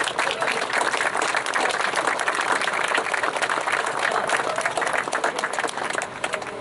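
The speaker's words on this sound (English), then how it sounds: "They all deserve a round of your applause to show your appreciation for their" Audience applause at a locomotive naming ceremony, a dense continuous patter of many hands clapping, loud and steady throughout with a brief voice near the end.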